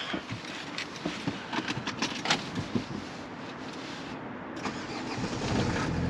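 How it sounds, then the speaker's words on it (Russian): A car engine is started nearby: a stretch of cranking and clattering bursts, then the motor catches and settles into a steady, rising idle rumble. "буду заводити машинку"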